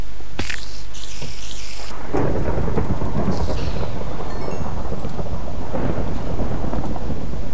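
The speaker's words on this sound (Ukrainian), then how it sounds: "Прикольно так гримить." In the video game Lethamyr, a loud, continuous roll of thunder rumbles over steady hissing rain, with the rumble swelling and fading across the whole stretch.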